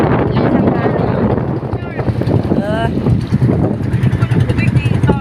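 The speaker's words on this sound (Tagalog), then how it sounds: "Lakas ang hangin." Strong seaside wind at Dagupan buffets the microphone in a constant low roar, with voices talking over it throughout.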